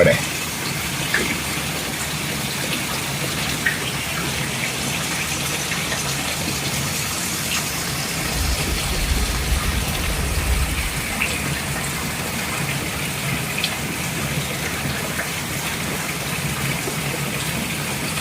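Rainwater pouring steadily off roof eaves after a week of continuous rain, a dense, unbroken gushing wash that stays loud and close throughout, with a voice talking over it.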